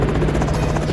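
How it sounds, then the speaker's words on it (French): A helicopter sets down for a landing near a school, its dense, steady rotor buzz and low engine drone filling the whole second at close range without a break. "Pilote! Atterrissage! Un hélicoptère brise la tension"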